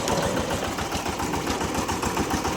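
A tractor engine runs steadily up close with a rapid, even low chugging throb and no pauses.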